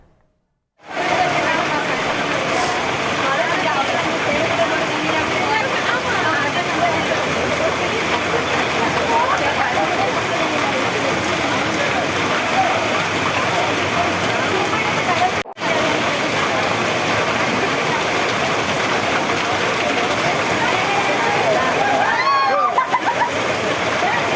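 Floodwater rushing like a river along the roads of Koodankulam, a steady, loud, broadband roar of flowing water that runs unbroken for over twenty seconds after a sudden start.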